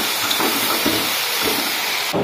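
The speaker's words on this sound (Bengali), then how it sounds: "ওই দেখো তেলের মধ্যে রসুন আদা সয়াবিন দিয়ে ভাজতেছি একসাথে" Garlic, ginger and soybeans frying together in oil, a loud continuous sizzle and hiss close up, unbroken for the short stretch.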